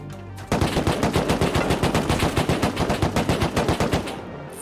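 AK rifle gunfire in the video game Rust: a rapid, sustained automatic burst of about twenty evenly spaced shots lasting roughly four seconds, loud and close, with no talk.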